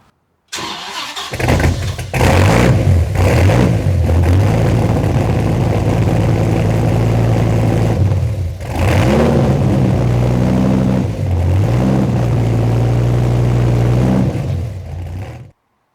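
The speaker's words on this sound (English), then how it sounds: "cold start of a 2001 Viper GTS with Belanger exhaust" A 2001 Dodge Viper GTS cold-starts, cranking and roaring to life through a loud Belanger aftermarket exhaust, revs briefly, then settles into a deep, rumbling idle.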